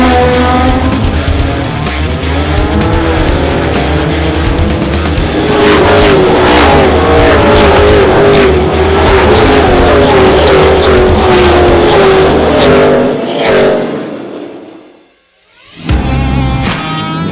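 Cars race and drift at the HOTPIT Autofest 2025 automotive festival, with loud, sustained engine roars, rising revs and squealing tires, then a brief drop to near silence before another engine bursts back in.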